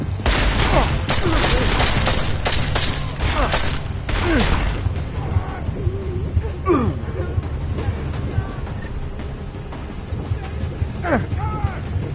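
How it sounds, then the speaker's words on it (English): Gunfire in the video game Deus Ex: Mankind Divided, loud bursts of rapid shots and crashing impacts packed into the opening seconds, then sparser scattered shots and whooshes, with a voice briefly speaking. "Who's shooting up the place?"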